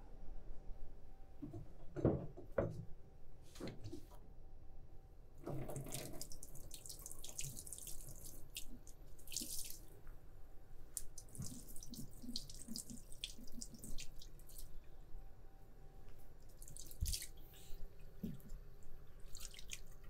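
Tap water runs and splashes in a kitchen sink during cleanup after filleting sardines, with irregular clatter and knocks of a cutting board and utensils, moderately quiet and without talk.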